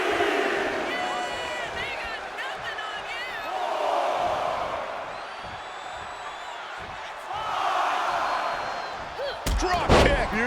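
Arena crowd cheering in the WWE 2K25 wrestling video game, a steady roar that swells twice and is joined by a sharp slam-like impact near the end, with commentary talk running underneath.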